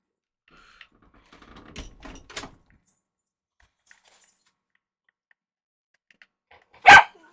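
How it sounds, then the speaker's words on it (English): A dog gives a single loud, sharp bark close by after a stretch of near silence broken only by faint clicks and taps. "Why are you barking, Hades?"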